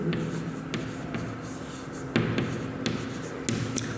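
Marker or chalk taps and scratches during a maths lecture on multiple integrals, short quiet strokes and clicks spaced irregularly over faint room noise, no voice.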